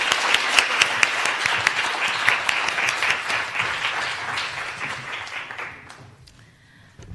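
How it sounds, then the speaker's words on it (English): An audience at an Immigrant Heritage Month story slam in Philadelphia applauds student poets with sustained, dense clapping that gradually fades away. "I just wanted to give these students another round of applause,"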